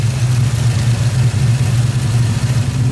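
A Chevrolet Silverado fitted with an LS 376 cubic inch, 525 horsepower engine and a 6L80 transmission runs with a loud, steady, deep rumble, a throbbing low-pitched lope close by with no talk over it.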